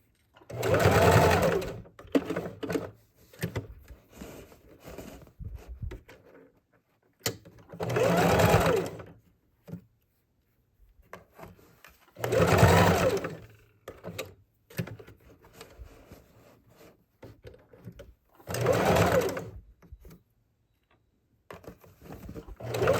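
Sewing machine stitching a fabric reusable gift bag in several loud bursts of rapid whirring stitches, separated by quiet pauses and softer handling noises.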